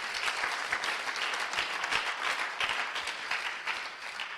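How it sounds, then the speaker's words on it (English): An audience claps hands in applause, a dense, even patter of many hands sustained throughout at moderate level, with no speech over it. "Let's appreciate the King with a clap of hands."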